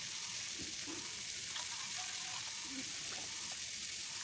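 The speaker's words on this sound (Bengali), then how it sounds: "বেশ বড় সাইজের চিংড়ি আছে, সেগুলো আমি লবণ ও হলুদ দিয়ে ভাজা ভাজা করে নিচ্ছি।" Large prawns fried in a pan with salt and turmeric, a faint, steady hiss of sizzling oil that runs without a break, with a few soft stirring clicks and a distant voice underneath.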